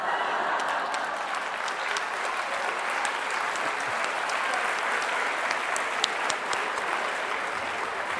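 Sustained audience applause at a yoga intensive, a dense, even wash of clapping from a large crowd holding steady throughout.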